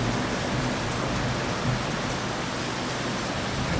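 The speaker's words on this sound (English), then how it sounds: "But at least it's raining." Steady rain falls in a dense, even hiss of drops that stays constant throughout, with no voices.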